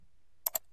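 Two quick, faint clicks of keys being typed on a computer keyboard, close together in an otherwise quiet moment.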